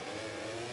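Motorbikes roar off the start line together in a MotoGP 24 race at the Portuguese GP, a dense, loud layered engine wail sustained through a brief burst with no talk.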